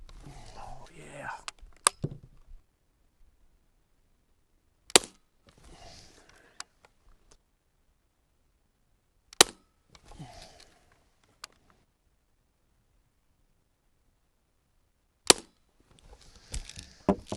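Sharp, isolated shots from a Daisy 880 multi-pump pneumatic airgun, four distinct cracks spaced several seconds apart, each followed by quiet pauses, with soft talking between some shots.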